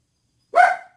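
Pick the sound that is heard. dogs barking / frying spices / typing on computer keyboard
dogs barking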